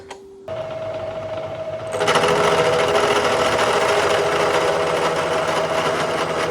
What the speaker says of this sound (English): you can see how the face mill is sort of rolling over and raising a burr on that leading edge of the cut